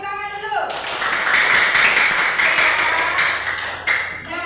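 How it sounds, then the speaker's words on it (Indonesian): A classroom of students claps together in steady, sustained applause lasting several seconds, with a voice heard briefly just before the clapping begins and again as it ends. "Ayo tepuk tangan dulu."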